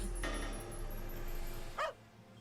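A puppy lets out one short, high yelp partway through, loud and close, over a steady background hum.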